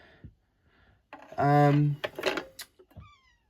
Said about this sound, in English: It's the cat meowing.